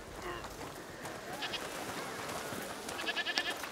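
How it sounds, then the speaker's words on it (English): Goats bleat in a village in the video game A Plague Tale: Requiem, with a few short calls over steady ambient background, heard at moderate distance and alone. "What's over there? Goats!"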